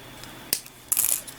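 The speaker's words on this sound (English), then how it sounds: "And then I'm going to trim off my wire." Wire for a tassel is trimmed with cutters, giving two short, sharp metallic snips close by, the second a little longer and brighter, with no talk.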